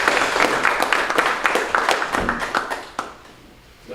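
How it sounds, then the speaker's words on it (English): An audience at a town council meeting in Dover, Tennessee, claps in a short round of applause, with sharp close hand claps that thin out and fade toward the end. "So one more time, I'll just ask you to give them a round of applause."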